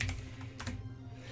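Quick, irregular keystrokes on a computer keyboard, someone looking something up online, clicking close and alone over a steady low background hum.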